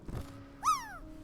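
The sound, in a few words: cat meowing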